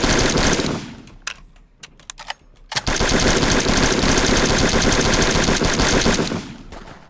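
Rapid automatic gunfire in the stealth game Sneak Thief, loud and close, with a long burst, a pause of scattered single shots, then another sustained burst before it trails off; no talking.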